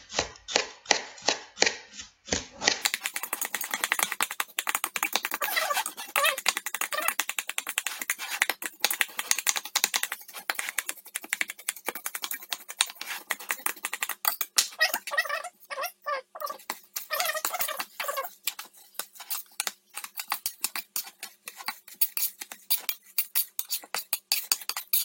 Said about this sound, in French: Et en fait, je vais couper les fruits.